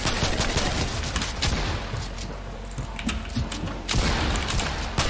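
Gunfire rattles from the Fortnite video game in dense, rapid volleys, loud and continuous over a busy backdrop of game sound.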